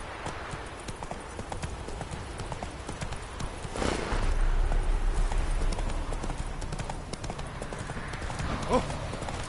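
A horse galloping in the video game The Witcher 3, with steady clip-clop hoofbeats that grow louder partway through, alongside background game sound and some speech.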